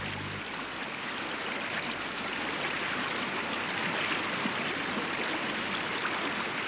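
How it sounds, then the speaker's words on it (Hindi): The Ganges river flows in a continuous rushing wash of moving water, steady and moderately loud, with no voices over it. "ये परम पावनी सर्व पापनाशिनी गंगा हैं"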